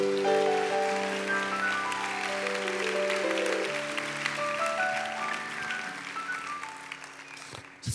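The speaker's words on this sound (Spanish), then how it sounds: "Diga un aplauso fuerte al Señor por eso." A church congregation applauds steadily over sustained organ or keyboard chords, the clapping dense and even before tapering toward the end.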